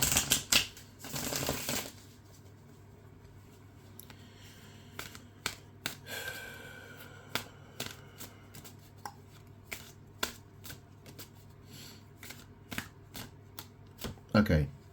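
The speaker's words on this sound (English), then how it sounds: "I'll give this a really nice shuffle." Tarot cards shuffled by hand: a burst of riffling at the start, then a long run of crisp separate snaps and taps as the deck is worked, fairly close and quiet.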